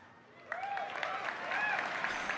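An audience at BlizzCon 2018 breaks into applause that swells suddenly and keeps going as a broad wash of clapping, with some tonal music or effects sounding over it.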